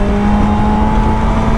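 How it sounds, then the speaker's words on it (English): A BMW S1000XR motorcycle engine accelerates with a loud, steady induction scream, a sustained high whine that stays close and unbroken. "That sounds really nice as well, the induction sound. Bit of a scream from the engine."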